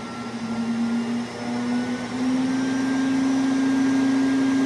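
A 1991 Black and Decker CA1440 vacuum cleaner running on its upholstery setting, a close, steady motor whine with a tonal hum that climbs slightly in pitch as it settles into full speed.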